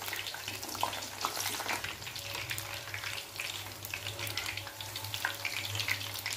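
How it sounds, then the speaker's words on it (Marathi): Corn pakoras deep-fry in oil in a wide, shallow kadhai, giving a steady, moderately loud bubbling sizzle that runs unbroken throughout with no voices. "मस्त क्रिस्पी होईपर्यंत आपल्याला पकोडे छान तळून घ्यायचे।"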